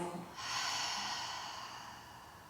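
A single long, breathy exhale through an open mouth during a yoga cool-down, close and steady, fading gradually over about two seconds after a brief inhale.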